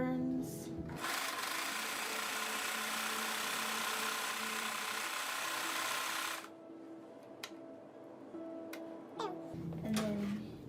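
A pedal-operated sewing machine runs steadily and loudly for about five seconds, then stops, leaving a quieter room with a few light clicks and handling noises.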